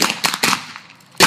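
Gunshots during a reenactment of the O.K. Corral gunfight, several loud sharp cracks in quick succession, a brief pause, then another close blast.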